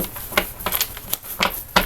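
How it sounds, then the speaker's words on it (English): A tarot card deck is shuffled by hand in quick bursts of papery riffling and soft slaps, several distinct flicks close by with brief pauses between them and no talking. "I'm just going to shuffle it a few times here for the collective today"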